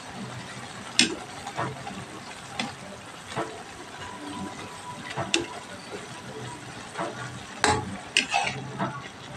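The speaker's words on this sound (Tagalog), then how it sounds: "Haluluin natin para magpantay ang pagkaluto niya." Bean sprouts with onion, tomato, garlic and tofu stir-fried in a pan, a soft continuous sizzle broken by scraping spatula strokes and clinks at irregular intervals, close by.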